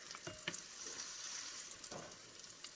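French toast cooking in butter in a frying pan gives a steady, soft sizzle throughout, with a few brief clinks and scrapes from the pan standing out.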